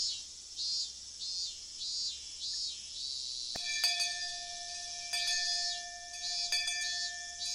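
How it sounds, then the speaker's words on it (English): A video game bell chimes partway through and rings on with a sustained tone, struck again a few more times, over a constant high insect-like buzz. "I heard the first bell ring just as I calmed down."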